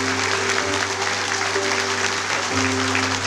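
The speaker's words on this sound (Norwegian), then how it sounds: "det er lov til å klappe" Audience clapping at a Posten jubilee party at Oslo Plaza, steady applause from a large room running throughout over a constant hum.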